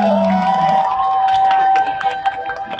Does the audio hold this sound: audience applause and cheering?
yes